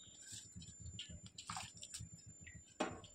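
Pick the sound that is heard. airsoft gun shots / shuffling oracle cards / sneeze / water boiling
water boiling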